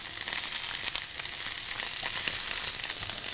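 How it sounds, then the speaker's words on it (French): Scallops sear in a hot pan with a steady, bright sizzling hiss and small crackles, continuous and moderately quiet with no talk. "nous allons poêler les Saint-Jacques, bien les saisir mais pas trop"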